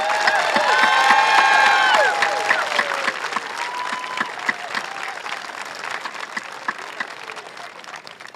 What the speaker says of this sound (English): Give this group a big old loud round of applause for me.